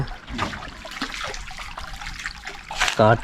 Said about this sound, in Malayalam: ചോലയത്തെ വെള്ളമാണ് കുറച്ച് ദിവസമായിട്ട് ഞങ്ങൾ ഉപയോഗിച്ചുകൊണ്ട്